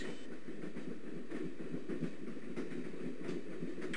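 A passenger train at night in Broken Sword rolls along the rails with a steady rumbling roar and soft rhythmic clatter, constant and close throughout.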